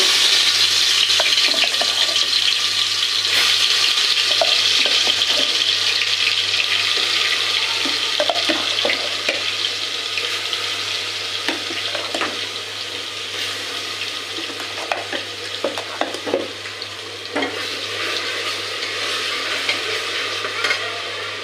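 Turmeric, cinnamon powder, cloves and black pepper fry in hot oil, giving a loud, steady close-up sizzle with light stirring scrapes and small crackles throughout, with no talking.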